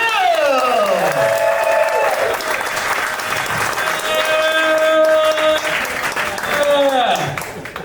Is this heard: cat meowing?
no